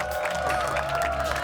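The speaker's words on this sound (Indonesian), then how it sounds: "Tepuk tangan dulu buat keempat panelis." Steady applause from a television studio audience for four panelists on a talent-guessing show, a dense, even patter of clapping with faint cheers, moderately loud throughout the short stretch.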